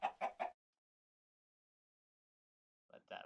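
Three quick clucks from a Minecraft chicken in the Better Than Wolves mod, then a long silence and two more short clucks near the end, close and clear with no talk.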